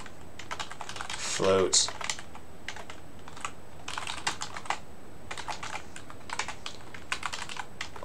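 Quick, uneven bursts of key clicks from a computer keyboard being typed on while coding a video game, close and fairly quiet, with a short spoken word partway through.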